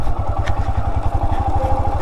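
Motorcycle engine idling nearby on a rough road, a steady low rapid thump with a mechanical clatter on top, loud and continuous throughout.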